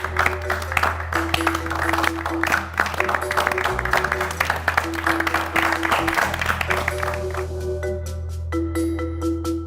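Studio audience applause on a Turkish reality dating show, steady clapping that holds for the whole stretch. Music tones and a low hum play underneath.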